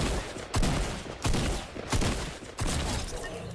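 Repeated bursts of gunfire in Fortnite Chapter 2 Season 1, four loud volleys spaced roughly evenly apart, each striking sharply and trailing off against a steady game background.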